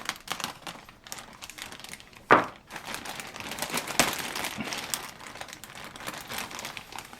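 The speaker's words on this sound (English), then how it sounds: "Cut our bag so I don't cut the pipette." Plastic bag crinkles softly and rustles, with one sharp snip-like crack of a cut into the bag partway through, followed by quieter continued crinkling and handling noises close by.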